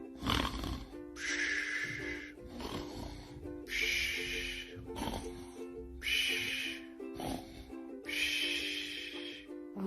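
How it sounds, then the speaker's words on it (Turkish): A cartoon character snoring while asleep, loud rhythmic snores alternating a deep rasping inhale with a higher hissing exhale, repeating about four times over a steady tonal background. "Horladı bile."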